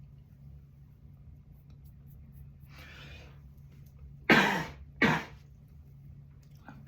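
Two loud, close coughs in quick succession, preceded by a soft breathy sound over a low background hum; a brief vocal sound is heard.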